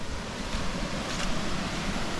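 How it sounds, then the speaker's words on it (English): A small waterfall on the Bolaven Plateau in Laos gives a steady, broadband rush of flowing water that holds even for the whole moment, close and fairly loud, with no talk over it. "Then we've got a miniature waterfall right there."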